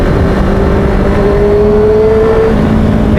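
A Honda CBR motorcycle engine drones steadily on a sunny ride, its pitch climbing through a sustained rev over a constant wash of wind and road noise.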